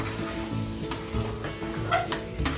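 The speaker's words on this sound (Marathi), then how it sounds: "आणि जेव्हा आपण यात अंडे मिक्स करतो ना त्यावेळेला ते पूर्ण वेळ आपल्याला असं हलवत राहायचं इथे" Egg bhurji made with free-range eggs sizzles in a pan while being stirred, a steady close frying hiss with a few soft scrapes and knocks from the spoon.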